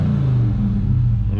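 A Dodge Charger engine in eco mode rumbles with a low, steady throaty growl, fairly close and continuous without any distinct rise in revs.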